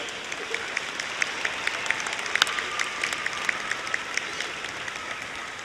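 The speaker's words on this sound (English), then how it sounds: "let's give a round of applause to all of those who have supported you in this endeavor" At an undergraduate commencement ceremony, a large audience gives a round of applause, a steady wash of many hands clapping at moderate volume, with a few sharper individual claps standing out throughout.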